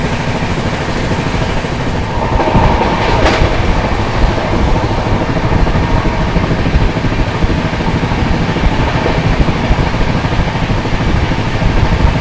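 Inside the Bihar Sampark Kranti express train running on rails, a loud, constant rumbling roar fills the whole stretch, with steady wheel and carriage noise and no pauses.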